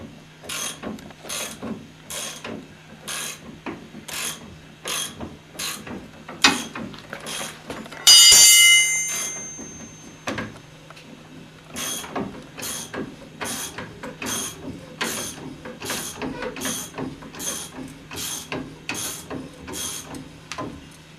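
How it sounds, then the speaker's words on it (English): A ratchet with a long extension works on the front end of a Mercedes 300D, giving steady, evenly spaced clicks, loud and close, with a brief metallic clatter partway through and no talking. "get my ratchet and long extension and let the spring load off"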